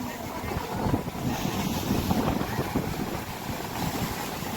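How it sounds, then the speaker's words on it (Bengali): Big sea waves surging at Old Digha beach, a loud roaring wash of surf mixed with heavy wind buffeting the microphone, continuous and close. "ভীষণ বড় বড় ঢেউ দিচ্ছে"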